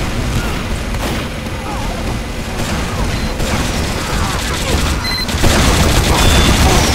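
Team Fortress 2 combat with dense, continuous gunfire and explosions filling a loud, chaotic battle soundscape, mechanical clatter and booms layered throughout with no pauses.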